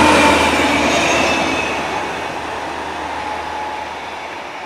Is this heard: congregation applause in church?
no